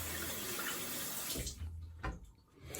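Running tap water rushes in a steady, close stream for a quick rinse after a shave, then breaks up into splashes and brief interruptions as hands move through it.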